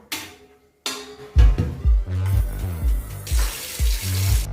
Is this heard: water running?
yes